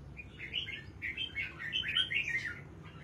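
Several caged songbirds chirp and tweet in quick, overlapping bursts throughout, fairly close and steady over a low background hum, with no talking.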